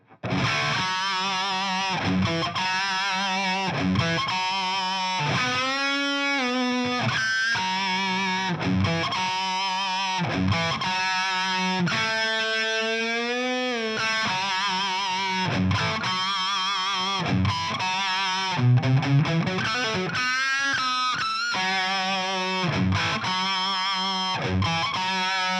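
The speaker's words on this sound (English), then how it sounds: "it should be played with a Strat with less distortion, but I've got a Les Paul and more distortion" Heavily distorted electric guitar riff from a 1970s song, played on a Gibson Les Paul, loud and continuous with sustained bent notes and chugging rhythm, no voices.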